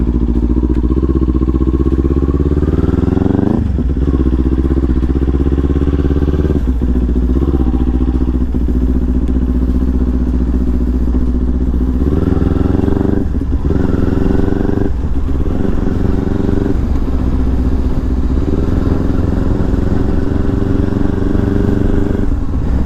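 Motorcycle ride captured from a GoPro 10 mounted on the rider's helmet, engine droning loud and steady throughout with rising and falling revs through gear changes, wind rumble and occasional clattering thumps.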